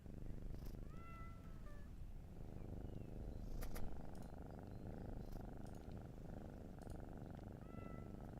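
Cats purring and meowing in the video game Shroud of the Avatar: a steady close purr runs throughout, with a few short rising meows near the start and end.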